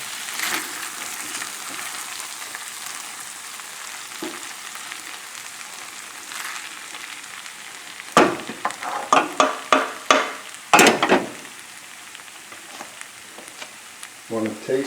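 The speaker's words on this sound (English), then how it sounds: "It's starting to fry and the moisture's gone." Chicken thighs seasoned with garam masala fry in a pan with a steady sizzle. Sharp bursts of stirring and scraping come in the second half, and no one speaks.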